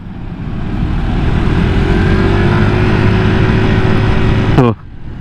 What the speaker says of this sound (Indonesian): ini suara motor gue tuh 11-12 sama suara PCX lokal